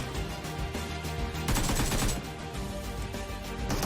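Video game gunfire rattles out in a dense, continuous burst, loud and close with no letup and no voices.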